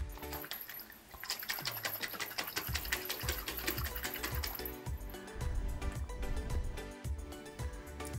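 A tightly lidded jar holding honey vinaigrette dressing is shaken, giving a rapid, rhythmic rattling and sloshing that keeps going for several seconds, fairly soft and close, with no speech.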